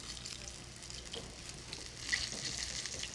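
Pork chops frying in a pan on their second side, a soft continuous sizzle with faint crackles and a few small pops, steady and fairly quiet with no talking.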